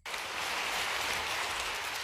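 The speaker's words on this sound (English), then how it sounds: "Now notice again how many times Fry gets applause in this show." TV studio audience applauding Fry, a dense steady wash of clapping that starts abruptly and holds at an even level throughout, with no talk over it.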